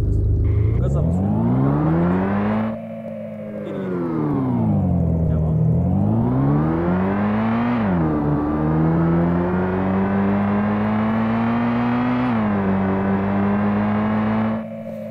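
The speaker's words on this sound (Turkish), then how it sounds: "Ses de duyacaksınız. Gaza basıyorum." A car engine in a Unity driving game demo revs and accelerates in repeated rising and falling sweeps, loud and continuous for the whole stretch with brief dips between pushes.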